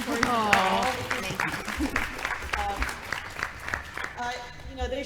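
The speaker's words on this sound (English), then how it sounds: "give them a round of applause for supporting all" A panel audience at the PAX West 2016 gaming convention applauds, sustained clapping from a crowd while a speaker keeps talking over it.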